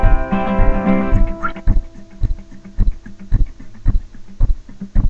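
A man imitates the rhythmic thumping of a diamond drill's water pump, a steady run of short percussive beats following a brief sung phrase, close and alone.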